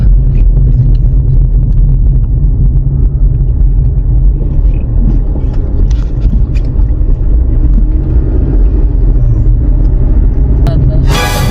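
A car drives up a narrow mountain road toward a campground, a steady close low rumble of engine and tires that holds throughout, with faint voices now and then.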